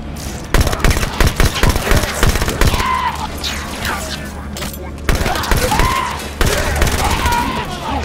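SMG fire in Halo 5: Guardians during close-quarters combat, loud rapid bursts of automatic shots with short pauses between them, over game effects and explosions.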